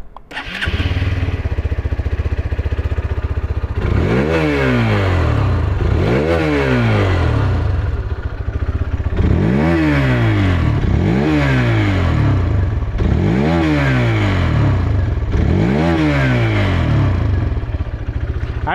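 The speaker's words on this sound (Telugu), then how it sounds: "Now it's time to hear the exhaust note." Hero Xtreme 160R 4V motorcycle on a 2023 model, exhaust idling close by, then revved sharply about six times in regular bursts, each rising to a high whine and falling back to a steady idle, with no talking.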